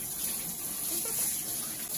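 Running water from a tap splashes steadily while a dog is rinsed during home grooming, a continuous close hiss and patter with no talk.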